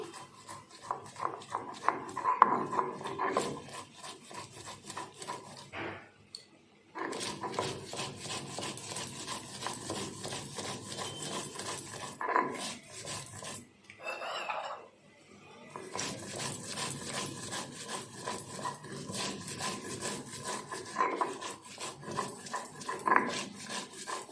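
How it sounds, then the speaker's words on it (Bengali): Mustard, white mustard and poppy seeds are ground into a paste by hand. Steady, close rubbing and grinding strokes run on and off, with brief silent breaks. "এবার আমি সর্ষে পোস্তটা বেটে নিচ্ছি।"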